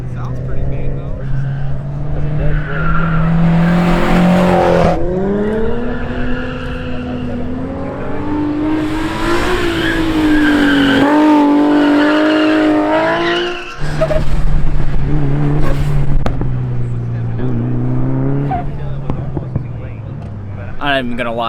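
Race cars at the Buschur Shootout drag race, a DSM, Evo and GT-R event, roar loudly with sustained revving and shifting engine drones, a brief drop near the middle, and voices talking under the noise.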